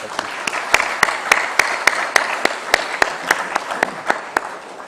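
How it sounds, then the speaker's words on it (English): Steady audience applause at a policy conference on geopolitics and geoeconomics, many hands clapping at a moderate level with sharp individual claps standing out, continuing evenly throughout. "Please give them all a big round of applause."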